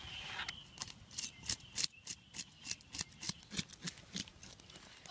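A fish caught while bowfishing in Australia is scaled with a blade in a rhythmic series of close, rasping scrapes, about two per second, with no voices.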